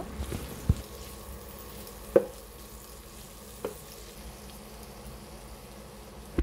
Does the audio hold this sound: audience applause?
no